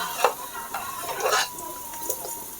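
Onions fry in a pan, a soft hiss and sizzle running under repeated scrapes and stirs of a spatula, close and fairly quiet.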